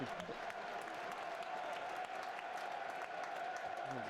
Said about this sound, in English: claps would suggest maybe Honeyman's sitting up a little bit